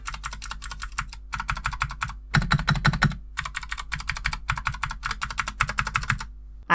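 Fast, steady typing on a Kemove Snowfox 60% mechanical keyboard fitted with blue clicky switches, bursts of sharp clicks broken by a few short pauses, close and fairly loud with no talking.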